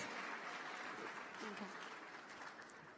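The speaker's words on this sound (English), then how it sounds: "And another round of applause, please, for our youth representatives." Applause from the audience for youth representatives at the YouthConnekt 2024 closing ceremony, a soft, even wash of clapping that runs steadily throughout.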